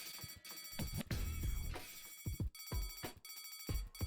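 An emergency telephone in the Deponia adventure game rings in repeated electronic bursts, with short pauses between rings and a cluttered game soundscape around them.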